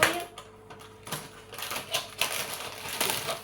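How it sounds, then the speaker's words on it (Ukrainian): Crinkling and tearing of a small plastic packet close up, irregular rustles and snaps in bursts, with no voices. "Зараз розпаковуємо."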